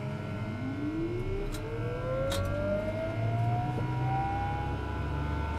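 TBM850 turboprop aircraft engine starting up, a rising turbine whine that climbs steadily in pitch over a constant low engine rumble, loud and close, with no talking.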